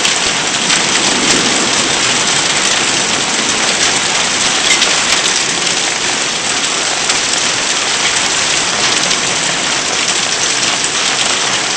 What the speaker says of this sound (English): Seems to just be mostly rain now